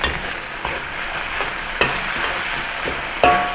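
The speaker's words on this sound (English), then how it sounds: "Give it a few quick stirs" Beef and tomato sizzle steadily in a hot wok while a spatula stirs, with a few sharp metallic scrapes and clanks punctuating the constant frying hiss.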